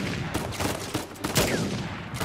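Rapid gunfire in the video game Uncharted 4, a dense string of shots crackling steadily at moderate level over a couple of seconds, with no talk over it.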